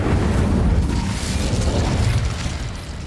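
The Incendio fire spell in Hogwarts Legacy on Nintendo Switch erupts as a loud, continuous roaring whoosh of flame with a deep rumbling body that holds steady and fades slightly toward the end.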